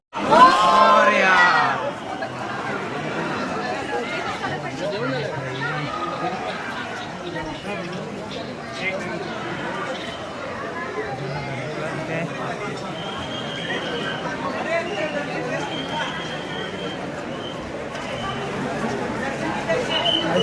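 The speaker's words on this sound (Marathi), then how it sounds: "खूप भरमसाठ गर्दी आहे बघा लाईन किती आहे" A large crowd at Lalbaug cha Raja in 2025: a dense, continuous murmur of many voices with distant shouts, steady and fairly loud, with a nearby voice speaking over it.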